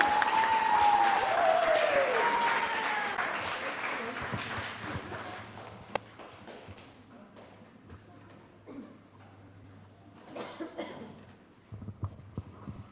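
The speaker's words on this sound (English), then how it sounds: "can we give another round of applause for Cabrini?" Summit audience in Saipan applauding after a storytelling reading, a broad wash of clapping that starts loud with a few whoops rising over it, then thins and fades to scattered claps.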